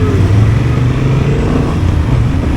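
A Honda 750 Transalp motorcycle rides past during an open-day test ride, its engine a loud, close, steady roar that stays strong throughout the short pass.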